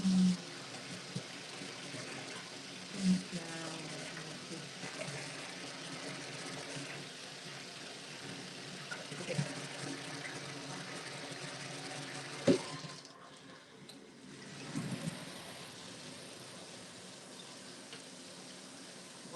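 Tap water runs steadily into a sink or basin indoors, a soft continuous rush with a few brief knocks and splashes, fairly faint and unbroken for most of the stretch.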